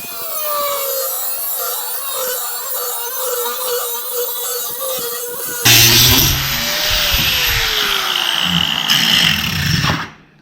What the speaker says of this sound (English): So cut-off wheel it is.